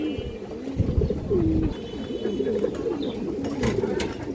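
Pigeons cooing among a flock of fancy breeds such as high-flyers and Jacobins, with soft, steady, overlapping low coos that run continuously up close.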